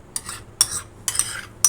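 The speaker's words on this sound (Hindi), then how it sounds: "अब इसको मिक्स करूँगी थोड़ा सा।" Cream is stirred into cooled ice-cream batter in short bursts, three or four quick scraping strokes of a utensil against a bowl, close and fairly quiet.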